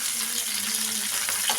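Onions and curry leaves frying in hot oil in a home kitchen, a steady close sizzle with faint stirring scrapes and no talk.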